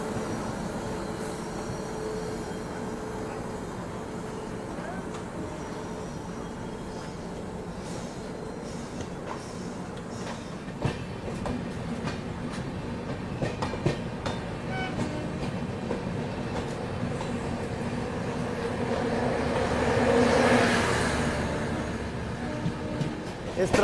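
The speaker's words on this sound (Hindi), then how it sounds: "भागलपुर गरीब रथ एक्सप्रेस।" Bhagalpur Garib Rath Express train passing near Ghaziabad junction, a steady rumbling rail noise with wheel clatter throughout, swelling louder near the end as it rolls close by.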